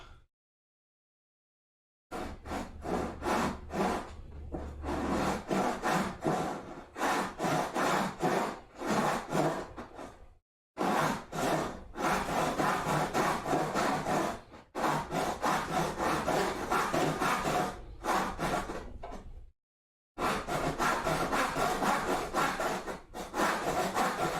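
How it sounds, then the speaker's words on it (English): A crosscut carcass saw cuts wood in long runs of steady rhythmic back-and-forth rasping strokes, loud and close, broken by a few short pauses. "We want the crosscut carcass saw."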